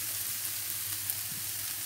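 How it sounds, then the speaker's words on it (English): Peppers and onions fry in a pan with garlic, giving a steady, even sizzle that carries on alone at a moderate level with no talking. "Once that's been frying for a few minutes, you want to add your peppers and onions"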